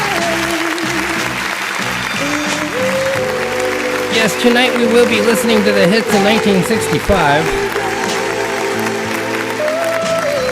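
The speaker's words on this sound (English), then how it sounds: "studio audience, give Tim a round of applause." Studio audience applauding a contestant on a live trivia show, continuous crowd clapping under a host's speaking voice and background music, steady and fairly loud for the whole stretch.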